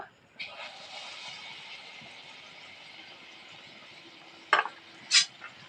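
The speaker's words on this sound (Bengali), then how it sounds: "তেলের মধ্যে আমি এই যে এখান থেকে ব্যাটারটা তুলবো এক হাতা করে দিয়ে কড়ার মধ্যে দেব" Moong dal malpua batter frying in hot oil in a wok, heard as a soft, steady sizzle with a clearer burst of bubbling near the start, then two sharp metallic clanks of a ladle near the end.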